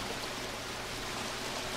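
A river flowing in the jungle survival game Green Hell: a steady, dense rush of running water, continuous and fairly loud, with no voices.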